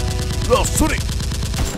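Toy Nerf guns firing during a mock gun battle, rapid rattling bursts of shots up close, with excited voices briefly calling out over the top.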